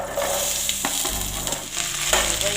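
Okra going into hot oil in a pan and frying with a steady sizzle, brief stirring clatters over a continuous crackle, close and fairly loud with no talking.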